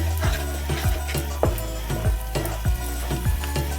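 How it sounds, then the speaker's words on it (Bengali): Onion paste with coriander powder, cumin powder and sugar sizzles steadily in hot oil, and a spoon stirs and scrapes it in a regular rhythm about every half second. "1/2 চামচ ধনে গুঁড়ো, 1/2 চামচ জিরে গুঁড়ো, চিনি 1 চামচ দিয়ে ভালো করে কষিয়ে নিই।"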